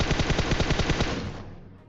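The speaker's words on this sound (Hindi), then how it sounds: "पीछे से गोली की आवाज आ रही थी" Rapid automatic gunfire in PUBG, a dense burst of closely spaced shots firing steadily for over a second before trailing off into a fading echo, loud and without talk.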